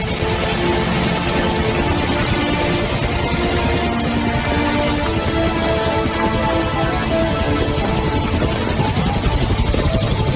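Helicopter in a French action film scene, a loud, steady rotor and engine roar filling the whole stretch without pause, layered with dense background noise.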